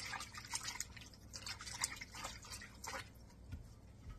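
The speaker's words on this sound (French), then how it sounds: "je rince mes tomates bien comme il faut" Tap water running and dripping as tomatoes are rinsed for green tomato ketchup in a home kitchen, a steady close splashing with small irregular drips and no voices.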